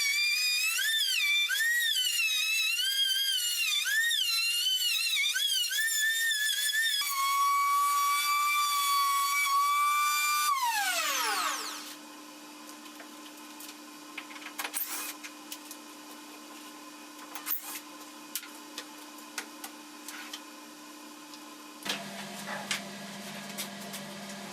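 A wood board has its face milled on a router table: a loud motor whine wavers and drops in pitch, then settles into a steadier, quieter hum with scattered cutting bursts.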